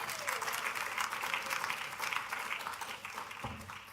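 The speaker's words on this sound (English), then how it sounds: "that's surely worth a round of applause" An audience applauds steadily at a trade union congress, the clapping dense and sustained before thinning slightly near the end.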